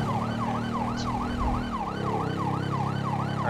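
Wailing ambulance siren from the video game GTA V, rising and falling in a steady repeating cycle throughout, loud and close over a low engine rumble.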